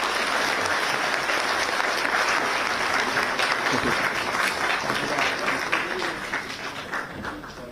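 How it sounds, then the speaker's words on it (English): An audience at a civil aviation summit breaks into loud, sustained applause following a speech, a dense clapping crowd that tapers off slightly at the end. "Big round of applause for"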